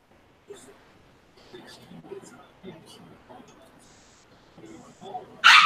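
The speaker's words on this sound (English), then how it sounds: "sounds like a cat just got the dog." A dog yelps and whimpers after being attacked by a cat, a short sharp cry near the end, heard in the background of a conversation as people talk over it.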